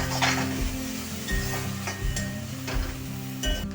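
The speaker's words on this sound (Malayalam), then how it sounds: "ഇഞ്ചി, വെളുത്തുള്ളി ഇവ ചേർത്ത് നല്ലപോലെ മിക്സ് ചെയ്ത് കൊടുക്കുന്നത്" Ginger and garlic frying in a pan for kadai paneer, a constant close sizzle with repeated spoon stirs and scrapes against the pan, spaced at roughly regular intervals.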